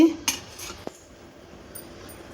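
Two quiet metallic clinks of kitchen utensils against a pot while melted jaggery syrup is strained at home for jaggery gulab jamun, one near the start and a sharper tap a moment later, then near silence.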